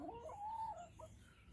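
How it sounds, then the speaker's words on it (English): A backyard chicken gives a single drawn-out, faint cluck with a brief rising note after, quiet against low background hum. "You're a very happy chicken."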